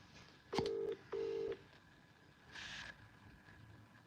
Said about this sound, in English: Should we ring Craig and ask him?